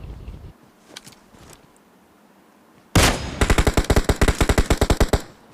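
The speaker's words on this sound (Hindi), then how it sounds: "पीछे से मुझे फायर की आवाज़ आती है" Gunfire in the mobile game PUBG Mobile: after a few quiet seconds, a loud burst of rapid automatic fire cracks out as a fast, dense string of shots that lasts about two seconds and then stops abruptly.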